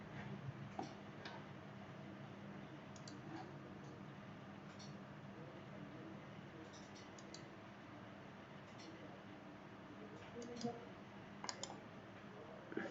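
A computer mouse clicks on and off during CAD software editing, small sharp ticks scattered across a quiet room background, sometimes in quick pairs.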